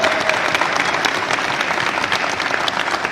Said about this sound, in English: That deserves a big round of applause.